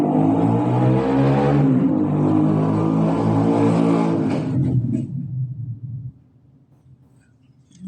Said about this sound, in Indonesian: Sebentar ya, ada motor lewat.